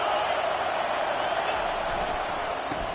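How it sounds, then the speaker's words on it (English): Stadium crowd noise in a Madden football video game, a steady, dense roar of spectators at moderate loudness, continuous and even throughout. "This crowd bringing the energy and noise early."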